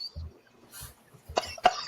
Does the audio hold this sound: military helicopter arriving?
no